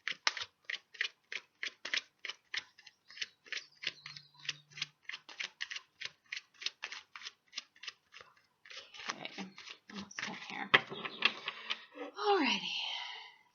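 Rapid, rhythmic riffling of tarot cards, crisp flicking bursts repeating in quick succession, ending in a longer shuffle with some rustling and a voice.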